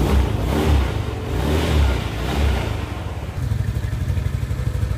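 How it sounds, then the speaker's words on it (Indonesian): A Suzuki Nex scooter engine with a groaning CVT fault starts up, its close, steady mid-pitched idle running with a slight rattling clatter throughout. "kita nyalakan dulu motornya."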